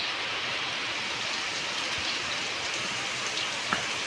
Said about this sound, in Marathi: पाऊस पडतोय मजबूत